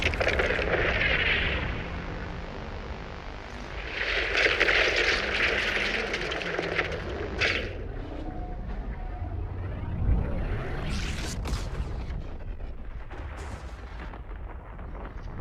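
Fortnite rift sound effects play back to back: a rumbling, booming whoosh with crackling bursts and a swelling roar, then a second similar surge with a sharp high sweep near the end. Loud and dense throughout, with no one talking.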